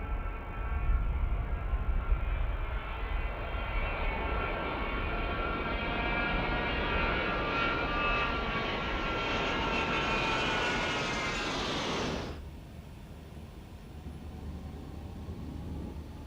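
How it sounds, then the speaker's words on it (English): Jet aircraft flying in formation at the RIAT air show, a loud continuous roar that swells and sweeps as they pass overhead, then cuts off abruptly to a quieter distant rumble. "This aircraft is right in the middle of the formation"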